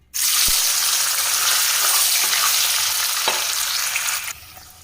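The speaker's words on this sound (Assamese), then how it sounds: "তেল গৰম হল। এটা পনিৰ হালকাকে ফ্ৰাই কৰিম।" Paneer hitting hot oil, a thump followed by a loud, steady, close sizzle that holds evenly for several seconds before cutting off abruptly near the end.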